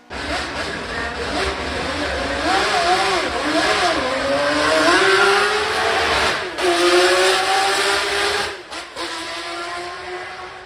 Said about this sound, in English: It's one of the best sounding cars I've ever heard in my entire life.